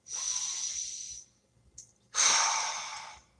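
A deep, close breath: a long airy inhale is followed by a short pause and a strong, hissing exhale. Heard alone, without talking.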